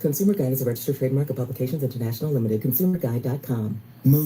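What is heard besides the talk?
None of the usual background noises is heard.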